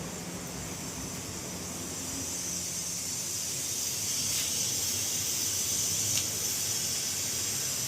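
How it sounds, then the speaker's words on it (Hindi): A pressure cooker in a home kitchen vents a steady, rising steam hiss, a sustained high whistle that grows slightly louder over the clip with two brief sharper spurts, heard alone with no talking. "अब ये कुकर सीटी भी देने वाला है।"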